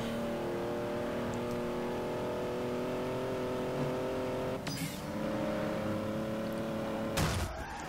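Engine of a not especially fast car racing in Forza Horizon, a steady loud drone that holds its pitch, briefly drops and rises during a gear change, then cuts again near the end; no talk.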